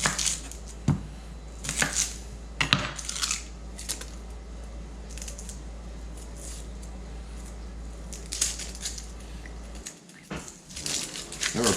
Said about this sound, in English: gonna cut up this onion real quick.